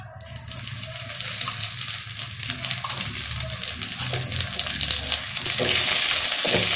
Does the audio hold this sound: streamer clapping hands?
no